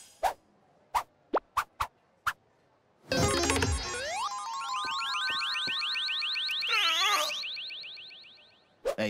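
A museum alarm in an animated show rings out after a few sharp clicks, a loud sustained electronic warbling tone that holds for several seconds before cutting off.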